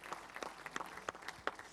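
Audience applause at the opening evening of a 2021 festival, heard as a brief, fairly faint patter of scattered claps from a crowd in a hall, with no one speaking.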